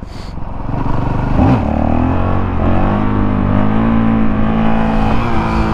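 A 2019 Honda CRF450L dirt bike engine revs up hard and then holds a loud, steady, throaty drone close by during a wheelie attempt, with no talking.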